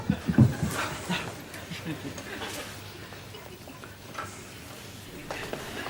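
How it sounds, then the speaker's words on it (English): A cabaret dog performing tricks indoors gives a few short yips and whimpers near the start, then quieter scuffling and movement, with people talking over a busy room. "He's a cabaret dog, you see"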